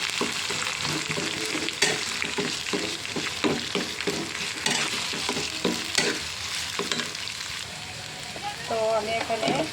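Ground bean paste and onions for a borboti vorta fried and stirred in a pan, with continuous sizzling and repeated rhythmic scraping strokes close by.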